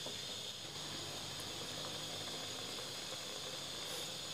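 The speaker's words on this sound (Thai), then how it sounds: "ตอนนี้ก็เดือดคักแล้วนะครับ" Mushroom curry with straw mushrooms at a strong boil in a pot, giving a steady, continuous bubbling hiss that holds evenly throughout with no talking.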